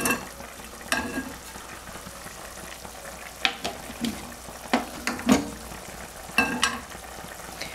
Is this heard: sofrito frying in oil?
yes